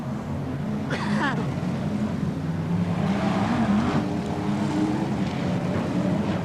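BriSCA Formula 1 stock cars racing at Boston in 1993, a dense engine roar from a pack of cars passing steadily with one sharp rising whine early on, heard from the track side under a commentator's voice.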